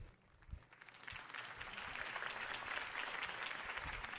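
A video game crowd in Batman: Episode 1 applauds steadily, clapping swelling quickly into a sustained, fairly distant roar that holds throughout.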